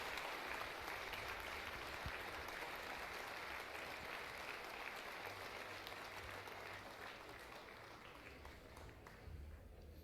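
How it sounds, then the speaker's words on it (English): A crowd at a Star Citizen CitizenCon cosplay contest watch party claps steadily throughout, a dense wash of applause that fades slightly toward the end, with faint background murmur. "give a warm round of applause to everyone who entered"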